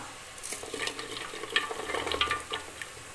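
Tomatoes and onions sauté in a pan for a Chettinad-style kara kuzhambu, a steady soft sizzle with stirring scrapes and small crackles, moderately close and without any talk.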